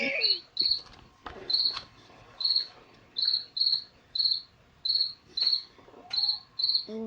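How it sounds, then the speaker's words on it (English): Crickets chirp as a sound effect in short, evenly spaced bursts of bright trilling, about a dozen in all. A few faint other noises sit quietly beneath the chirps. "Crickets."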